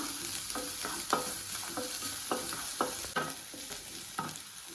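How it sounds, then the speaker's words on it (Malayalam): Chopped garlic and ginger sizzle in a hot pan for a mushroom curry while a spoon stirs them, with steady frying hiss and repeated sharp scraping strokes against the pan at an irregular rhythm, close and clear. "ഒരു ആറല്ലി വെളുത്തുള്ളി അരിഞ്ഞത് ചെറിയൊരു കഷ്ണം ഇഞ്ചി അരിഞ്ഞത് അതുകൂടെ ചേർത്തിട്ട് വീണ്ടും ഇളക്കി കൊടുക്കാം"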